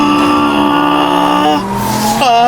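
A BMW M4 CS revs loudly and steadily, its engine tone sliding down then climbing again as it drives, close and dominant throughout.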